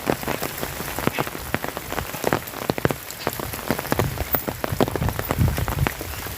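Heavy rain pours steadily onto surfaces outdoors, a dense loud patter of drops with sharper splashes throughout, continuous and without voices.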